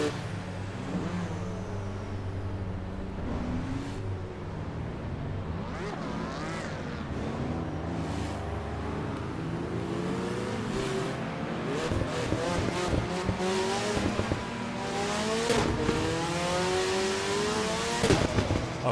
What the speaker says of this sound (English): the sound of this car is pretty awesome